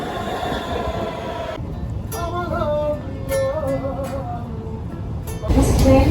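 An Ankara metro train rumbles along with steady rolling noise and high squealing wheel tones, building louder toward the end.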